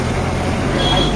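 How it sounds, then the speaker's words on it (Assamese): A city bus rumbles through busy roadway traffic in Guwahati, Assam, with a steady, loud, dense engine and road noise filling the brief moment. "এছ টি চি বাছ পাইছোঁ ইয়াতে বাছত যাম এতিয়া"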